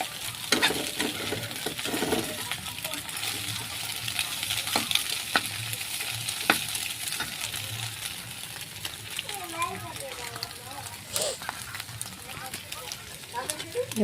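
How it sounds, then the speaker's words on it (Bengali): Food being slowly stirred in a pan with boiled pasta about to go in, producing a soft continuous sizzle with scattered utensil taps and scrapes, while a voice talks over it at intervals. "আস্তে আস্তে নাড়িয়ে নেবো"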